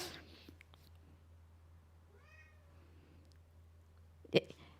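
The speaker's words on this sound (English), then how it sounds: "The cat, bless him, he found us." Cat meowing indoors, a single short, faint meow over a low room hum, followed by a sharp bump.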